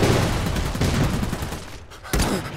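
Gunfire in the video game Iron Harvest, a loud, dense fusillade of rapid shots and booms that rolls on continuously, breaks off briefly, then resumes.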